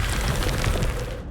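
A Confringo fire spell goes off in Hogwarts Legacy, a dense, rumbling blast with a continuous low-end roar that sustains for about a second before cutting off abruptly.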